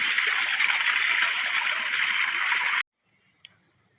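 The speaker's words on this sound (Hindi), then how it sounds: "इस टाइम खेत में पानी आ रहा" Irrigation water pours into a farm field with a steady, gurgling rush that cuts off abruptly near the end, followed by near silence and one faint knock.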